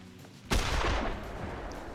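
A single F3 Blazer rifle shot rings out in The Hunter Classic hunting game, a sharp loud crack followed by a long rolling echo that fades slowly across open terrain.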